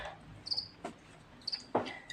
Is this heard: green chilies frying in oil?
no